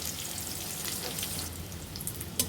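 Pieces of raw jackfruit fry in a pan with a steady, close sizzling crackle and occasional sharper pops from stirring, with no voices.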